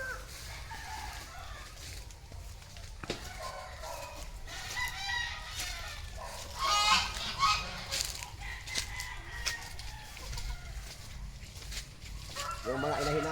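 Fighting cocks kept as gamefowl cluck and crow around a farmyard pen, several birds calling at moderate distance with a crow rising midway and another near the end, while people talk faintly in the background.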